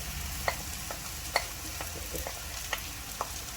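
Minced mutton fries with onions in a pan for mutton thool curry. A low, constant sizzle runs under light, irregular spoon taps and scrapes, close and fairly quiet.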